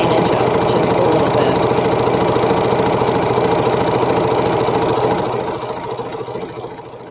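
A sewing machine stitches quilt strips with a steady, loud, continuous motor whir and rapid needle chatter that eases off and quiets over the last couple of seconds.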